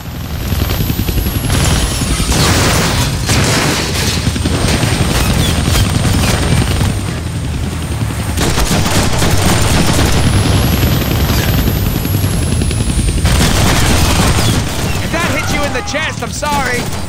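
Helicopter rotor drone and repeated gunfire bursts in a Deadpool video game battle, loud and continuous, with shots clustered throughout and a voice talking over the action.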